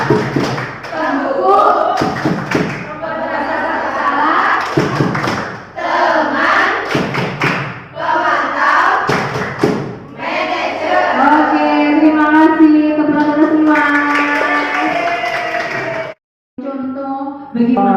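A group claps a rhythmic classroom clapping pattern in repeated bursts of sharp, closely spaced claps with short pauses, and voices chant along in a loud, busy room.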